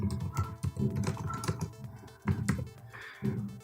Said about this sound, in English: when I am typing import NumPy as an NP in Pycharm